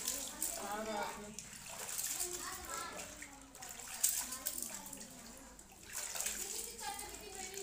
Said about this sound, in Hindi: कपड़ा धो रहे हैं, जिसके जिसके कपड़े धुलने हैं ले आइए, हम धुल लेते हैं।